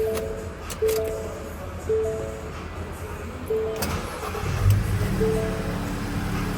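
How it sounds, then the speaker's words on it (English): A Ford Transit van being started after an alternator replacement: a brief cranking burst settles into a steady idle, with a few clicks and chimes around it and no talk over it. "Oh, I can turn the car on."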